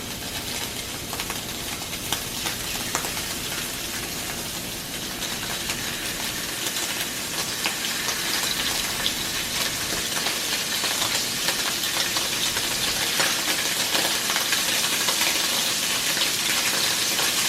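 Scallops searing in a hot pan after being pressed down, a steady bright sizzle and crackle that grows slightly denser over time, with no voices.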